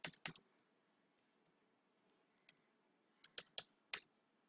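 JavaScript code being typed on a computer keyboard: a few crisp close keystrokes in short clusters, separated by near-silent pauses, with no talking.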